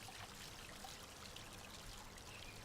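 Soft, steady trickling water from a garden water feature runs continuously at low volume, a gentle splashing flow with no voices.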